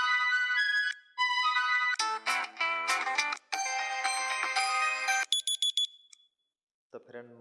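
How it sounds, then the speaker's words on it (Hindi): A WhatsApp group notification ringtone plays on a mobile phone as a series of bright electronic chimes and beeps in short bursts, then cuts to silence before one final brief tone. "तो फ्रेंड उसके लिए आपको एक रिंगटोन को क्लिक करना पड़ेगा जो आपको पसंद है"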